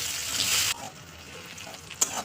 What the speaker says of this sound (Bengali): গরম হয়ে গেলে দিয়ে দিব একটা বড় পেঁয়াজ